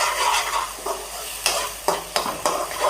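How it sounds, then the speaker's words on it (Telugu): Ginger, garlic and onion masala for a fish curry sizzles in a hot pan while a spoon scrapes and stirs it in several distinct strokes, close up and steady, with no talking. "కొంచెం పచ్చి వాసన పోయేంత వరకు వేపుకోవాలి."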